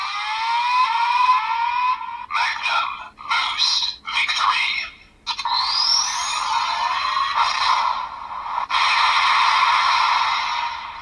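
DX Desire Driver toy belt with the Boost and Magnum buckles fires its dual finisher effect, a loud electronic sequence of sweeping siren-like tones, bursts and chimes that plays alone without speech.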